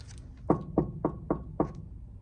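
A door is knocked on five times in an even, unhurried rhythm, each rap sharp and fairly close, with quiet in between.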